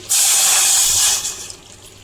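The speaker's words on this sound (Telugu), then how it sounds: "ఒక కప్పు బెల్లంకి ఒక కప్పు వాటర్ అయితే వేసుకుంటున్నాను" A short splashing pour of water onto jaggery in a pan, a bright hissing burst lasting about a second before trailing off into quiet drips.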